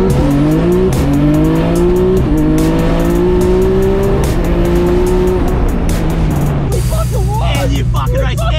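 A 1200hp Nissan R32 Skyline GT-R roll-racing build's engine roars and climbs through several revs, loud and close, then shifts to a rougher, harsher growl as it pulls away.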